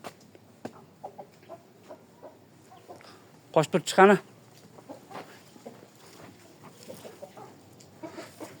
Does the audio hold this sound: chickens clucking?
yes